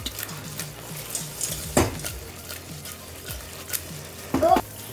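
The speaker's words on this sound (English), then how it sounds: "Now add the fried florets of cauliflower and" Fried cauliflower florets being tossed and stirred in a pan for street-style Gobi Manchurian, giving a soft sizzle with scraping and a few sharp clanks of utensil on the pan.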